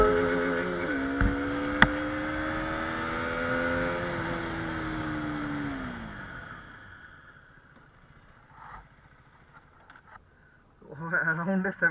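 A motorcycle in a braking test comparing a KTM Duke 125 and a Yamaha MT-15: a steady engine drone holds, then falls in pitch and fades as the bike slows, with brief voices near the end.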